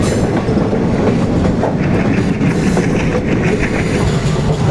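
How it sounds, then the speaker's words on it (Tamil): A train on the Kollam to Sengottai mountain route runs steadily along the line, a loud continuous rumble with rhythmic clickety-clack of wheels over rail joints, heard from on board without talk. "நினைச்ச மாதிரி அப்படிதான் சுத்தி போகுது ட்ரெயின்."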